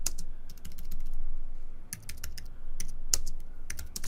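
Steady typing on a computer keyboard, close and clear, with bursts of crisp key clicks and short pauses between words, alone with no voice over it.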